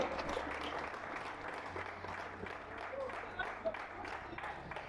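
A seminar crowd of pastors in Caracas claps in loose, scattered applause under a low hum. The clapping is moderately loud and fairly even, with a brief louder burst near the end.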